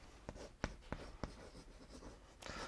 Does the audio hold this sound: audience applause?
no